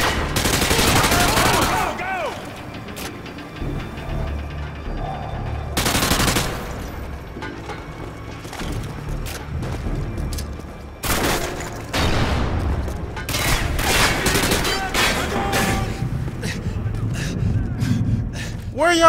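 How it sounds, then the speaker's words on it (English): Gunfire from Modern Warfare 2 comes in several sharp, loud bursts spread across the stretch, with rapid automatic volleys and quieter gaps between them, and a voice briefly heard between the bursts. "I'm literally getting shot down the hallway"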